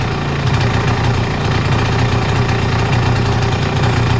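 A small ETon 90cc engine idles close by, a loud, steady, rapid chugging putter with no talk, holding an even rhythm throughout.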